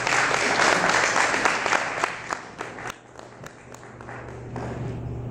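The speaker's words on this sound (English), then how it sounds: "Let's give them another round of applause." A church congregation applauds the young people at a Methodist youth service, steady dense clapping close by that dips briefly midway and then picks up again.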